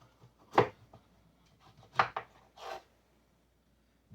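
A knife chops through peeled, seeded squash for a corn chowder: four crisp, close cuts in two bursts, the first alone and then three in quick succession, with quiet gaps and no talking.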